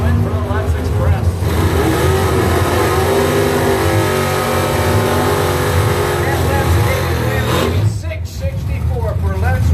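A 1965 Chevelle on a drag strip roars loud and sustained under an announcer's voice, the engine note climbing through gears before easing off near the end.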